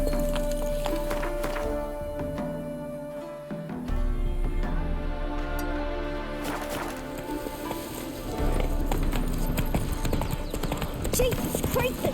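Horse hooves clip-clop at a steady trot through a medieval fantasy game world, Witcher 3 Hearts of Stone, with occasional whinnies and a bed of ambient game music and effects underneath, running throughout.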